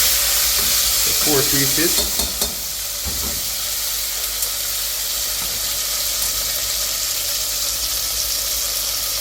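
Oxtail pieces for a Jamaican-style stew sear in a hot pan, giving a loud, continuous sizzle and hiss. A few clinks and stirring sounds come early on, and a voice speaks briefly at the start.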